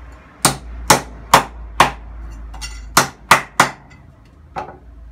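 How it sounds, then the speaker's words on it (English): A hammer smacks a 1964 Mk1 Mini's floor panel flat during restoration, striking eight sharp metallic blows close by in an uneven rhythm, with a low hum underneath. "Just smack it with a hammer."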